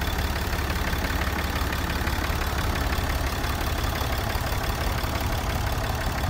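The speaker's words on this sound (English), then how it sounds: "Cummins turbo diesel again." A 6.7 Cummins turbo diesel in a nearly new Ram truck idles with a steady, even rumble and a faint ticking knock, constant and unbroken throughout.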